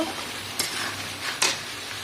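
Spice masala frying in oil in a pan for a chicken, potato and tomato curry, with two sharp scraping stirs of the spoon over a soft, steady sizzle.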